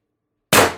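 A single sharp report from a Pistelle X-68 air rifle fitted with an HD24 short tuning ASA and MCS expansion chamber, bursting out loud and close after silence and decaying quickly.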